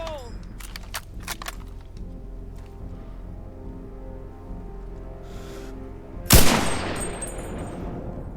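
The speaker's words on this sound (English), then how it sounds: "A few more shots." Rifle fire on a shooting range in the video game Enlisted: a single sharp, loud gunshot with a ringing tail stands out late, after quieter distant game ambience and faint clicks.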